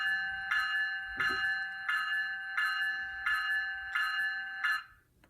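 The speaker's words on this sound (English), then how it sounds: "I want to go ahead and just start off with the bell on F1." Rhythmic locomotive bell from an HO scale ScaleTrains ES44AH model in CSX livery, ringing about eight steady clangs roughly every 0.7 seconds at close range, then stopping abruptly.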